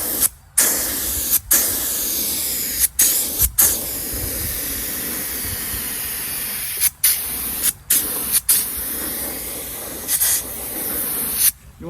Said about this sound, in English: I'm just going to spray one light coat, and I'll apply 2 coats.